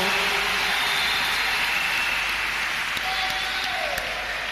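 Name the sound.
congregation applauding in church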